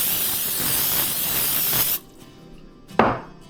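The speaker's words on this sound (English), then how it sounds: "Spray them with some olive oil." Olive oil is sprayed onto fresh garden green beans for the air fryer: a continuous hissing spray for two seconds, then a brief quiet and one short sharp burst.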